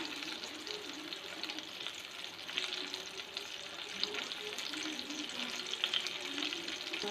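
Curry leaves dropped into hot frying oil for a biryani gravy give a steady, fairly faint crackling sizzle that holds evenly throughout, with a few small pops and no voices.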